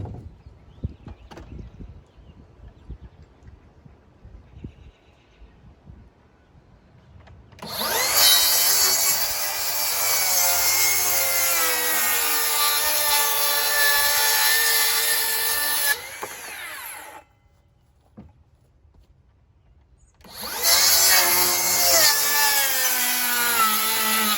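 A Makita 40V XGT 7-1/4-inch rear-handle cordless circular saw rips through wood in two loud, sustained cuts, the first about eight seconds long, then a pause before the second begins, with quieter handling noise beforehand.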